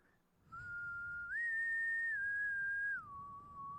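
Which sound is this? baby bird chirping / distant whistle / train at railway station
distant whistle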